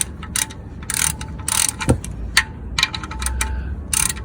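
Clicking of a half-inch drive ratchet being worked during an oil and filter change on a Holden VZ SS Ute with a 6.0 LS2 V8, heard as a series of short, fairly close bursts of rapid ratcheting with brief pauses between strokes.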